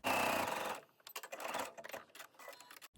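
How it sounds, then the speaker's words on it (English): A serger overlocks the side seams of a woven blouse at a 3/8 inch allowance, with a loud continuous whir that cuts off abruptly, followed by quieter clicks and fabric handling. "I've already serged, and I'm serging down the sides at 3/8 inch."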